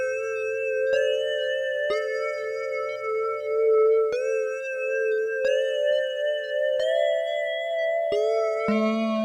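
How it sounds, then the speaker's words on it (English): Sustained Kodamo Mask1 synthesizer chords with a wide, shimmering chorus effect, changing every second or so in a steady sequence, loud and clear with no talking. "Let's put the chorus on."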